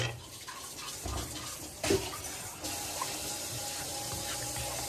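Coconut milk pours into a simmering egg curry, a steady watery rush that runs throughout at moderate volume, with a brief louder splash near the two-second mark.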